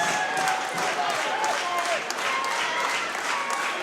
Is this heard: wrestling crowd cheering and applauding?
yes